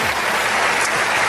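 A church congregation claps together in a short, dense burst of applause that fills the room evenly, with no voices standing out.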